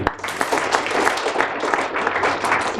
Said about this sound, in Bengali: সবার জন্য জোরে একটা হাততালি